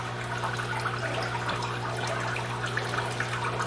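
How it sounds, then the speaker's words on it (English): Water drips and trickles from a small handmade waterfall inside a paludarium for red salamanders, a soft steady splashing under a constant low hum. "The water's dripping nicely from over there. There's a little mini waterfall I built."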